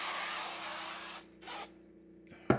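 A short hissing burst of cooking spray close up, stops, then a second brief spray follows before a small knock at the end.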